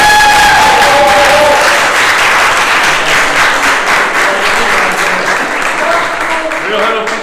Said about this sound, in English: One big applause once again,